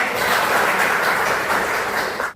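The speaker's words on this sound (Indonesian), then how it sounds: "Tepuk tangan saudara." A classroom of students applauding during a school lesson, a thick, even burst of many hands clapping at once that holds steady and then cuts off abruptly.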